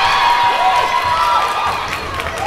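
Crowd at a girls high school playoff basketball game, USN versus Clarksville, roars and cheers right after a crossover layup, a loud sustained swell of shouting and whistles with high-pitched voices throughout.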